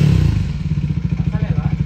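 A Royal Enfield Himalayan 411 motorcycle accelerates out of an off-road rut, its single-cylinder engine chugging in a fast, even pulse of thumps, close and loud, starting with a heavier burst before settling into steady throttle.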